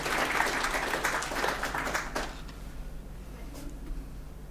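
Applause from a conference audience at a technical talk, a dense wash of clapping that starts full and thins out over a few seconds into scattered claps and room noise.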